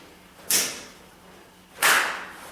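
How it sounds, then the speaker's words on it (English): A fist punches into an open hand during a karate kata seminar, two sharp slaps spaced over a second apart, each quick and fairly loud over a quiet room. "That's the sound of punching your hand."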